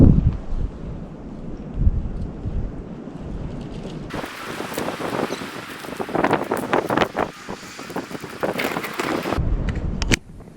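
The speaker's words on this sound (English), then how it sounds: "You can tell it's pretty windy out" Strong wind buffets the microphone in gusts in the maple woods, a constant roaring rush that swells louder partway through, with no talking.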